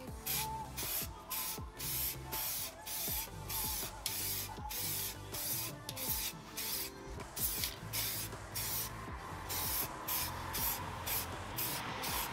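Aerosol spray paint laid as a light dusting coat on car wheels, a series of short hissing bursts in a steady rhythm of quick passes, close and fairly loud with no talk.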